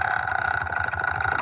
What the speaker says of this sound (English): I'm burping, because I've been drinking fizzy pop